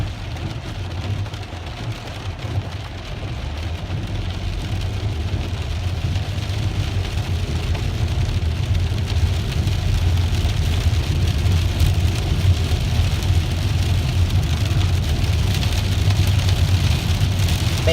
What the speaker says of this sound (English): this is a pretty good storm.